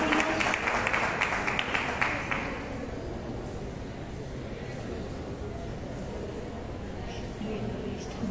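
Audience applause at a book launch event: a short burst of crowd clapping for the first couple of seconds, then fading into a murmuring room with voices underneath.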